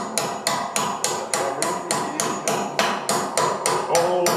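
A hammer strikes repeatedly while new carpet is nailed down on a trailer, about a dozen sharp, evenly spaced blows close to the listener.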